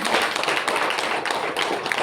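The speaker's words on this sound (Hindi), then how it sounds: "इसलिए एक बार जोरदार ताली बजा दीजिए" Audience at an organization's event in Chhattisgarh clapping hard, a steady dense burst of applause filling the whole short stretch.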